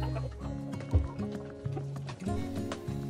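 Five bantam chickens in a small 4 by 8 foot breeding pen cluck and murmur nearby, with overlapping, drawn-out calls and a few sharper squawks.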